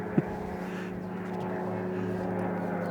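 Propeller aircraft passing directly overhead above a quarry, a steady droning hum that holds fairly loud throughout, with a brief knock near the start.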